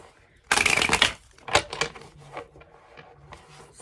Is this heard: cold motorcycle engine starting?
no